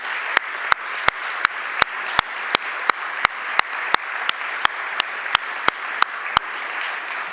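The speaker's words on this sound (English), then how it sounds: "A big round of applause also to our technicians" Applause from a congregation at a livestreamed church sending service, honoring the technical crew: a steady wash of clapping runs throughout, punctuated by sharp, evenly spaced claps in a regular rhythm.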